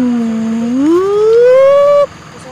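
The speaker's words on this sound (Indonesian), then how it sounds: "Si merah si penyelamat mobil pemadam kebakaran" A single toy fire truck siren wail rises smoothly in pitch, loud and close, then cuts off abruptly.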